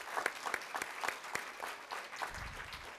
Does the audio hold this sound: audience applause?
yes